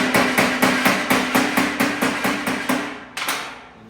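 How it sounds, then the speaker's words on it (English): Sheet metal hammer tapping steel into shape while building custom wheel tubs: about a dozen loud, sharp metallic strikes at a steady quick rhythm, each ringing briefly, then a short pause before a final blow. "take our sheet metal hammer"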